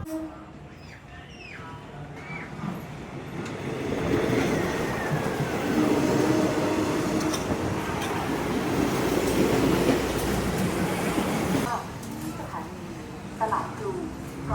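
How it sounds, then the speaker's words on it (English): A train rumbles and clatters past nearby along a working line beside an old market in Bangkok, its wheels clacking steadily for several seconds, with people talking before and after it goes by. "Can you hear it? I think the train is"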